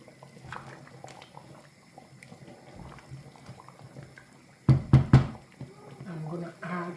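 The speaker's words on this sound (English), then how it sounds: "Give it a good stir." A spoon stirs thick Igbo achi soup in a pot, with soft liquid movement and a quick cluster of loud knocks against the pot near the end. A voice talks through the stirring.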